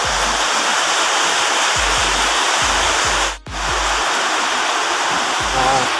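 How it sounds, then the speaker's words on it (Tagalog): A loud, steady downpour of heavy rain roars close by on a farm in Saudi Arabia, with periodic low thuds and a brief dip midway before the torrent resumes. "Lakas ng ulan, guys."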